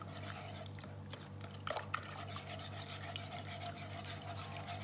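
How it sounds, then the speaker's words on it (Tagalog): Passion fruit is stirred into a leche flan mixture with a steady, faint wet swirling and light scraping throughout, plus a couple of brief clinks near the middle. "Lalagay na natin lahat ng ating passion fruit. So ang gagawin natin dito ay haluin lang po natin."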